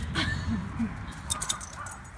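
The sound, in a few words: puppy whimpering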